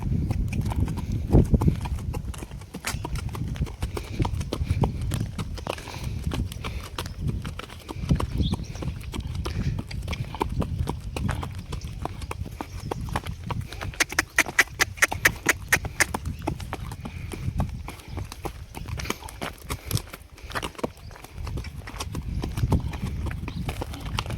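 A mare driven along a village road, her hooves clip-clopping in a steady rhythm throughout, with a brief burst of quicker hoofbeats in the middle and faint voices now and then.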